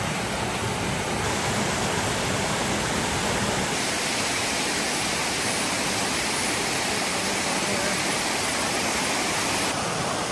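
A small waterfall on the Appalachian Trail at Kinsman Notch rushing steadily up close, a loud, unbroken roar of falling water with no other sounds.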